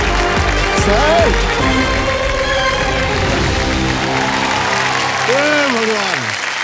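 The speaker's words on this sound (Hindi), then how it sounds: "तालियां बजा रहे हैं इनके लिए" Audience applause in the studio of a TV quiz show, clapping that carries through the clip under the host's excited talking and music.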